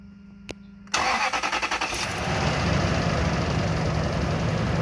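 A 2004 Lexus GX470 with a replaced ABS brake booster pump has its engine started after a faint click. The starter cranks in quick rhythmic pulses and the engine catches into a loud, steady idle close by.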